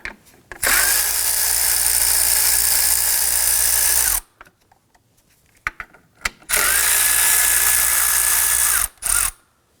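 A power tool spins out 10 mm bolts from an engine cover on a 2005-2009 Subaru Legacy 2.5L H4, producing two long, loud whirring runs separated by quiet handling clicks, then a brief final burst.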